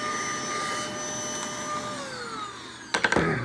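Handheld vacuum cleaner running steadily with a loud whining motor drone, its pitch sliding down before a burst of rattling suction and debris near the end; no voices.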